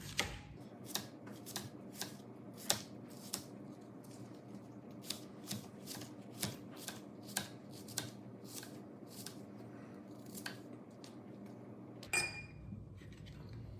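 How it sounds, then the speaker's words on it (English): A whole onion chopped with a knife on a cutting board, a steady series of crisp, evenly spaced taps close up, ending with a brief clatter; no speech. "So we're gonna chop up a whole onion."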